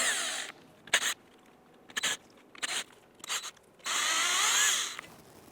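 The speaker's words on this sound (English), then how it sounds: "Using a T20 Torx bit, remove the screws running across this metal beam." A power driver with a T20 Torx bit backs screws out of a metal beam behind the grille of a 2005-2007 Ford Five Hundred, giving a sustained whir, several short trigger bursts and a final longer spin, close and clear.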